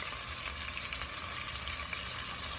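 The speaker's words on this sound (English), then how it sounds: "you're just gonna barely sear it on one side" Food searing in a hot, uncrowded pan, a steady loud sizzle throughout with no talking.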